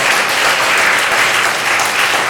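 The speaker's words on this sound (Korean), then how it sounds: "박수하겠습니다." A church congregation gives loud, sustained applause to welcome newcomers, a dense, even patter of many hands clapping without pause.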